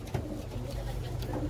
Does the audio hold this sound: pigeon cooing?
yes